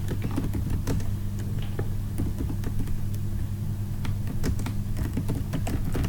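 Fingers type a payment method name on a computer keyboard while setting up an online store's checkout, a rapid irregular run of close key clicks over a steady low hum, no speech.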